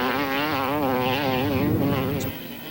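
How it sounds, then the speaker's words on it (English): An off-road race engine screams at full throttle across rough dirt ground, a loud, sustained rising and falling whine with steady harmonics that never lets off, close and alone. "Listen to the engine."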